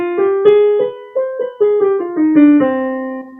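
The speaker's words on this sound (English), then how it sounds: "and minor scale would sound like this." A minor scale is played note by note on a piano, about a dozen clear tones stepping along at an even pace, each ringing briefly before the next, with nothing else heard.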